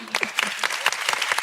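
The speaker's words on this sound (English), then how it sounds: "please, big round of applause for Bridie and Wyatt." A live audience at a climate podcast event claps in steady applause with overlapping sharp hand claps, close and moderately loud.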